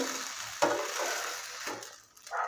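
Adai dosa frying in oil on a pan, a soft broad sizzle with a brief clatter near the middle and a short lull toward the end.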